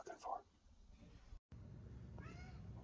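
A cat meows once, a drawn-out rising and falling cry near the end, after a brief quiet stretch, with indistinct speech and rustling at the start.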